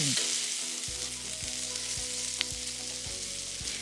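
Marinated chicken sizzles steadily in a hot pan, with regular scraping strokes of a stirring utensil sounding every half second or so, close up and with no voices.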